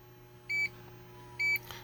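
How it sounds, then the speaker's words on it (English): Two short electronic confirmation beeps from an IGLA anti-theft system in a 2024 Toyota Highlander hybrid, evenly spaced about a second apart, clear and close over a quiet cabin hum. "I got the sound, I got the beeps."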